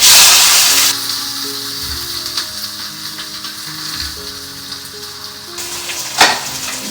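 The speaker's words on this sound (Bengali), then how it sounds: "আর তারপরেই পেঁয়াজটা দিয়ে দেবো দিয়ে ভাজবো" Onions fry in hot oil with bay leaf and dried red chilli in a home kitchen, giving a steady loud sizzle throughout, with a brief burst of bright spitting near the end and faint stirring under it.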